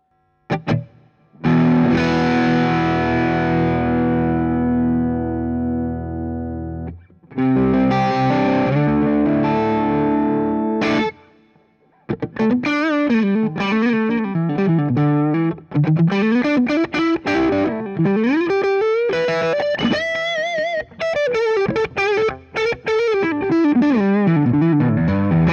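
An electric guitar plays through a Fulltone OCD overdrive pedal, starting with heavily distorted sustained chords, then a pause, then a fluid, gritty single-note lead line that runs loud and continuous.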